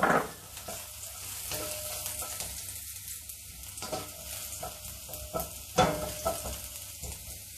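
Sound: frying minced garlic and dried shrimp in rice bran oil

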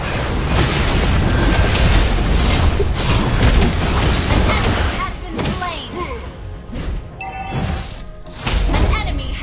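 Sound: turret destroyed explosion in video game Mobile Legends

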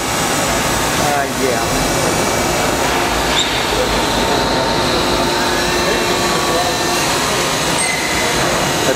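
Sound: Daewoo DMV 3016 vertical machining center spindle running

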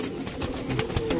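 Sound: Malwai pigeon cooing in a loft

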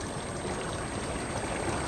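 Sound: water flowing from an aquaponics grow bed siphon outlet

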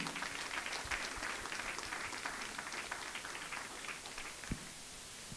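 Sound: applause

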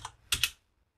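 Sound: computer keyboard typing a terminal command

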